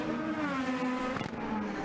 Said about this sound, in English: Josef Newgarden is that second car in the screen. And he is chasing down E.J. Vizo